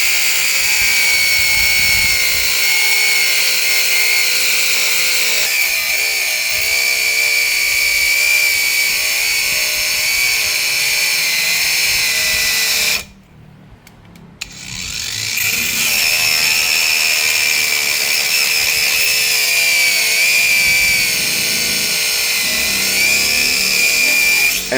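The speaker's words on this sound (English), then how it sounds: "this cordless angle grinder delivers the performance you need." Hychika 18V cordless angle grinder with an 8500 RPM brushless motor, a loud steady high-pitched whine while cutting and grinding, briefly cut off for about a second and a half, then running again.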